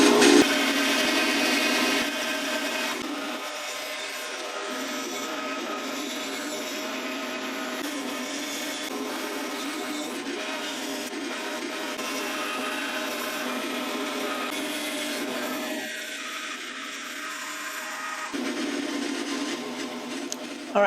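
A power saw cuts a fishing lure shape out of glued-together wood blocks, a steady whining buzz with the pitch shifting as the blade moves through the wood, close and sustained for about twenty seconds.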